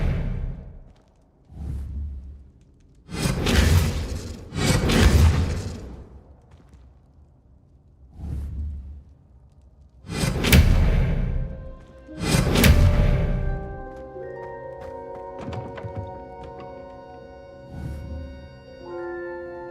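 Spell blasts from a wizard duel in Hogwarts Legacy: repeated loud whooshing bursts with thumping impacts, spaced a couple of seconds apart, followed by ringing tonal magical shimmer and a lighter trailing swish.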